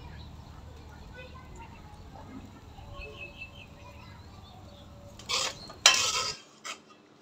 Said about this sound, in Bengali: চিংড়ি মাছ দিয়ে এবার আমি একটু কষিয়ে নিচ্ছি মশলার সাথে।